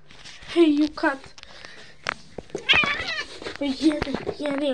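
A cat meows several times, short rising calls with pauses between, alongside a person talking and some rustling.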